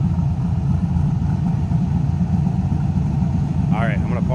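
A 2000 Chevrolet Camaro SS convertible with a 5.7 liter LS1 V8 runs with a steady, loud low rumble throughout, under continuous talk, with a brief higher whine near the end.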